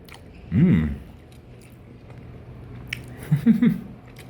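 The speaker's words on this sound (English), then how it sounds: "Finally, I'm eating Brazilian food I like." Someone chews Brazilian food close to the mic, with two short bursts of wet squishy mastication over a steady background hum.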